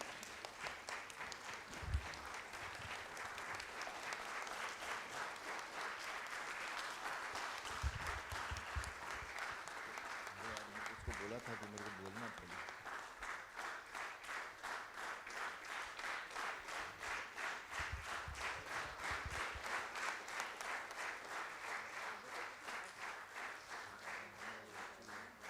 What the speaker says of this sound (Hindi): एक सोम दीदी के लिए सभी खड़े होके उनके स्वागत में ताली बजाएंगे